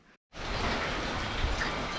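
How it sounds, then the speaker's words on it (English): Steady rain pours outdoors during stormy weather at a haunted house build site, a dense, even hiss that starts abruptly after a brief silence and holds loud and continuous to the end. "finally we're getting some fucking much needed rain"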